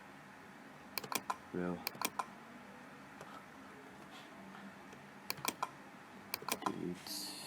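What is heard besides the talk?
computer keyboard keys and mouse clicks in Photoshop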